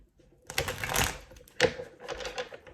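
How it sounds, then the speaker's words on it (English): Brief bursts of tarot cards being riffled and shuffled, a papery flutter up close, repeated twice in quick succession. "Let's get this card shuffled."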